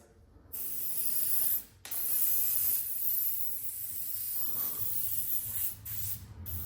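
An airbrush sprays paint over a stencil with a close, steady airy hiss, briefly cutting out twice as the trigger is released, with no talking.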